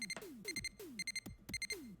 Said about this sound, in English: Also an alarm for some reason when you finish the game.